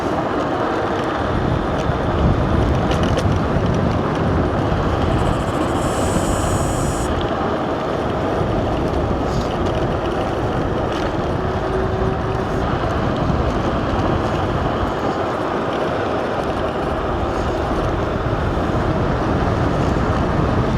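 Loud, steady rushing wind and road roar from an Emove Cruiser V2 electric scooter riding downhill through a tight turn, continuous and close with no break.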